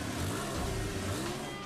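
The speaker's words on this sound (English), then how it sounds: "for the first time inside the car we start the engine" A new Porsche 911 engine fires on the assembly line and runs in a short, steady mid-pitched revving drone, fairly close with factory background noise and no speech.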